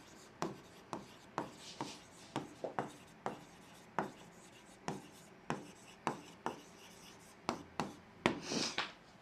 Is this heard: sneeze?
no